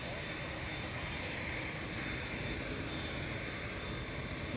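A Boeing 787-8 Dreamliner departing Manchester Airport for Cancun, its engines a loud, steady, broadband roar that fills the whole stretch without letting up.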